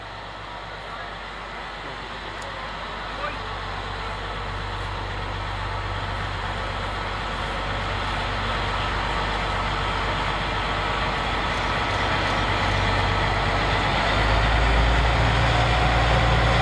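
An L45H diesel locomotive rated at 650 horsepower on the Zittau narrow-gauge railway rumbles with a low, steady engine drone that grows gradually louder as it approaches, with no talk.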